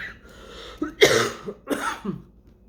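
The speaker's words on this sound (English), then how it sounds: "sorry about this cough." Two harsh, close coughs, each followed by a short throat-clearing rasp, loud against an otherwise quiet background.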